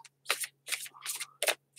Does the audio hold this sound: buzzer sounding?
no